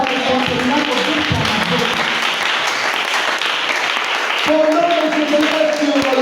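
A church congregation applauds and cheers loudly and steadily, a dense wash of clapping with voices raised over it, swelling again near the end.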